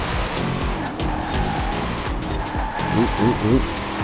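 A 2020 Chevrolet Corvette C8 Stingray in Forza Horizon 4 skids, tires squealing and engine revving in short pulsing bursts, loud and near, with a voice talking over it.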